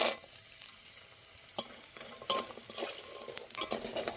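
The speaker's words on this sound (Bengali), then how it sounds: "ওই তেলে আমি বড়ি ভেজে নেব।" Lentil badi frying in hot oil in a home kitchen, a soft sizzle under light scraping and clinks of a spatula stirring in the pan, close and fairly quiet.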